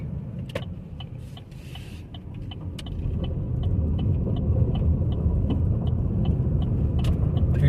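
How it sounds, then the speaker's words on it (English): A car rolls through a road construction zone over loose gravel on a detour, a steady low rumble of tires and engine with faint crunching and clicks, growing slightly louder partway through. "Hear that loose gravel?"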